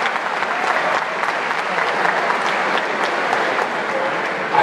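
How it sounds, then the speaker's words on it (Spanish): Steady, dense applause from a crowd, sustained and even for several seconds with no break, no speech over it. "Por favor, un aplauso"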